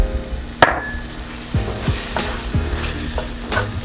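A spoon stirs rum into Guyanese pine tart filling in a bowl, giving a few sharp knocks and scrapes against the sides at irregular intervals, close and fairly loud.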